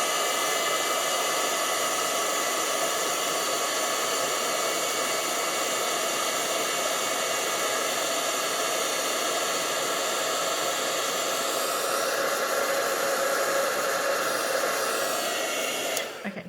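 A heat tool blows a steady, loud, hissing roar for about sixteen seconds while heat-setting embossing powder on a Christmas card, cutting off abruptly at the end.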